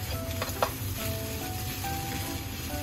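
Egg and green onion fried rice sizzles in a wok being tossed, a steady frying hiss with a few sharp scraping and clattering hits near the start.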